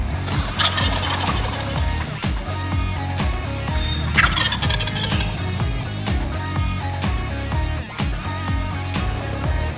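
Wild turkeys at a Kansas hunting camp gobble loudly several times in rapid rattling bursts, partly over a steady background of music.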